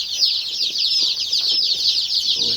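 Red Star (ISA Brown) chicks in a brooder, producing a dense, continuous chorus of high, rapid peeping close by, with faint rustling underneath.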